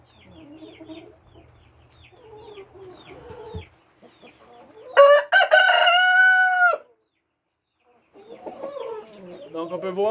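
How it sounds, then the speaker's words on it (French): A rooster crows loudly and close by in one long call on a farm with laying hens, with softer clucking and quiet talk in French before and after it. "Bonjour, Rooster. Comment vas-tu"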